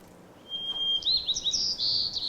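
Recorded songbird song played over speakers in a lecture hall: a thin whistled note followed by rapid high warbling trills, clear above a steady room hiss, with no talking.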